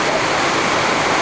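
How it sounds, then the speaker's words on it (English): Heavy rain drums on a roof during a storm on the GR20 trail, a loud, dense, unbroken hiss filling the whole moment. "What you hear is just the rain hitting the roof."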